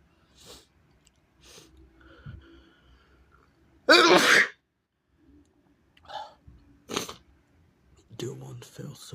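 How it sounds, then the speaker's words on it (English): A person sneezes big once, loud and close, amid quieter breathy sounds and small clicks, with more faint sniffs and throat noises later. "I can't sneeze on the candle."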